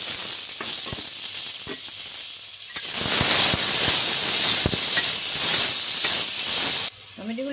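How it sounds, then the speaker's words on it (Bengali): Tomatoes stirred in about a teaspoon of hot white oil in a wok, a steady close sizzle and hiss that grows louder partway through, with occasional sharp clinks of a spatula against the pan. "টমেটোগুলো দিয়ে একটু হালকাভাবে নাড়াচাড়া করে নেব।"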